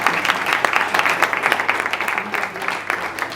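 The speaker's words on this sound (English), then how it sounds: "So can we all just give Lily a round of applause?" A conference audience at a World Economic Forum session in Davos gives a sustained round of applause, many hands clapping in an uneven, fairly close patter that stays even throughout.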